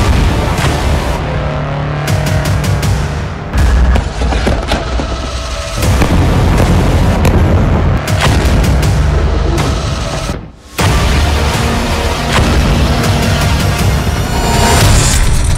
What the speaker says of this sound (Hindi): फिर तोपों से उन टारगेट पर निशाना लगाता है